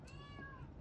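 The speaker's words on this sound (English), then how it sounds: "I can feed my cat right outside" A single drawn-out meow from a cat just outside a door, faint and brief against a quiet indoor background.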